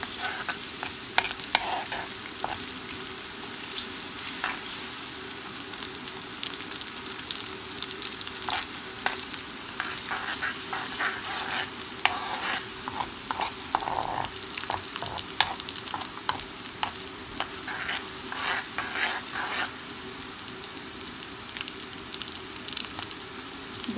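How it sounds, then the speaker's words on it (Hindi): Chopped onions fry in oil in a pot for tadka dal, a continuous sizzle with frequent scraping stirs of a spoon against the metal, steady and close, with no talking. "ये प्याज हल्की सी पकने लगेगी तो फिर इसमें हम डालेंगे लहसुन।"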